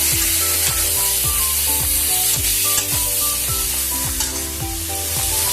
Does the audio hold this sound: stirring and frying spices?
yes